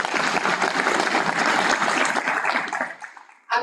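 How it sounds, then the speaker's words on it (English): An audience applauds graduates at a graduation ceremony with steady, dense clapping that fills the room and then fades out, with a brief noise at the very end. "Can you give yourselves a round of applause?"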